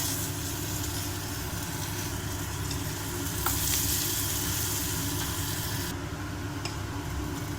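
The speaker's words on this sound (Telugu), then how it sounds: "కొద్దిగా అల్లం వెల్లుల్లి పేస్ట్ వేసుకున్నాము" Ginger garlic paste sizzles steadily in a hot pan for an onion tomato curry, a continuous loud frying hiss with a brief surge partway through and no voices.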